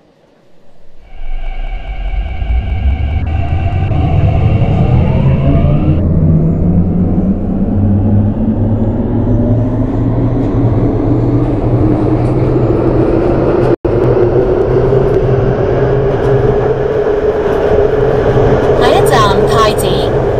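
An MTR Tsuen Wan Line C-Train in the Hmmsim 2 train simulator, running from Central towards Prince Edward: an electric traction whine climbs steadily in pitch over a loud, continuous rolling rumble, with a few brief tones near the start.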